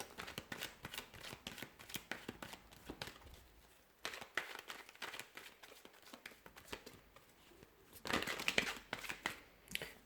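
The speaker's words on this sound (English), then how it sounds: "I'm going to go ahead and give the cards a shuffle" Tarot cards are shuffled close by in repeated quick riffling bursts of flutter and slap, with short pauses between rounds.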